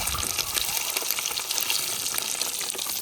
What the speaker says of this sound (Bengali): এক সাইড কিন্তু ভাজা হয়ে গেছে, এবার উল্টে দিচ্ছি অপর সাইডে ভাজার জন্য।